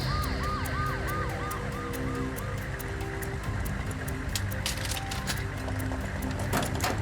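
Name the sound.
ambulance siren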